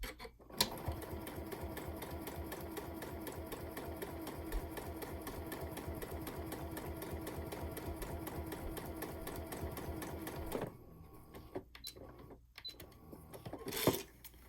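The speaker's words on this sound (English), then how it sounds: "you just keep on sewing just like you would for a regular binding" A sewing machine stitches binding onto an octagon quilt with a fast, even mechanical chatter for about ten seconds, then stops, leaving a few soft clicks and fabric handling sounds nearby.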